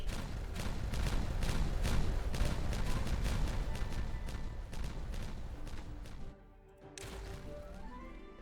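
Explosions in the beaver-colony game Timberborn go off as rapid successive blasts, sharp cracking pops repeated in quick rhythm for several seconds, then thinning to a few fainter bursts after a brief lull.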